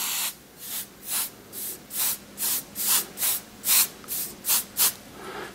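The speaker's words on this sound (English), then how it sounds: "use that as a mask and kind of spray around it to establish where it's at" A Testors Aztek airbrush spraying paint around a small container lid used as a mask, about a dozen short hissing bursts in a quick regular rhythm, close and clear with no talking.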